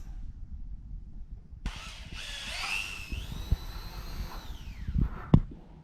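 A power drill bores a hole through a Krytac M4 airsoft magazine, starting abruptly with a whining motor that climbs and then sags under load for several seconds before stopping with a sharp clunk, close to the microphone.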